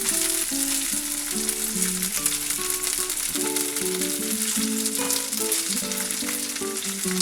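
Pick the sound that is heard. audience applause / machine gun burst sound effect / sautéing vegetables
sautéing vegetables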